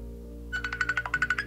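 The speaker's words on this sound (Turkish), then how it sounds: "Hep aramaya devam ediyor böyle bak hiç susmuyor telefon." Incoming-call ringtone on a phone that keeps ringing, a bright repeating electronic chime pulsing in quick even beats after a short pause, loud and close over a low steady hum.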